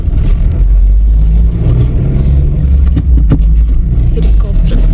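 A car moves along with a loud, steady low engine rumble and road noise, rising slightly at moments, with faint voices mixed in.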